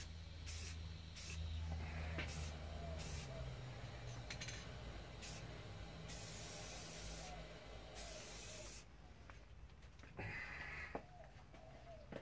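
Aerosol spray paint hisses in light coats over a Stratocaster guitar body, steady close bursts with short pauses between passes, and a faint voice is present in places.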